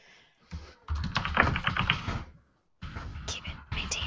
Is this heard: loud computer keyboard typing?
yes